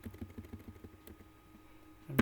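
Keys on a computer keyboard are typed in a quick, irregular run of soft clicks, pausing briefly before a louder final keystroke.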